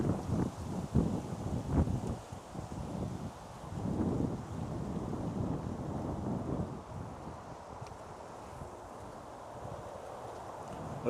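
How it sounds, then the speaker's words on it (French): Wind blows in a cool breeze beside the water near trees, buffeting the microphone in low rumbling gusts that are stronger early on, then settle into a softer steady rush. "Il y a du vent, il y a de la fraîcheur."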